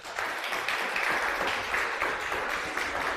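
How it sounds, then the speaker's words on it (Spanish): A church congregation applauds steadily for a few seconds, a moderately distant, even wash of many hands clapping with no one speaking over it. "Un aplauso para ellos."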